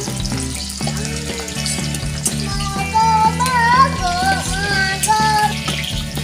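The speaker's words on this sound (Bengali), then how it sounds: "কড়াই তেল বসিয়েছি, তেলটা গরম হয়ে গেছে। আমি প্রথমে পেঁয়াজগুলো ভেজে তুলে নেব।" Onions frying in hot oil in a wok for a dhaba-style bhujia, giving a steady soft sizzle throughout that sits beneath louder melodic background music.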